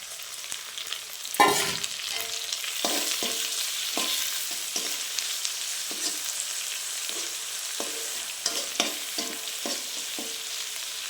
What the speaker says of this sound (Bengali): তো আমার মশলাটা ভালোভাবে ভাজা হয়ে গেছে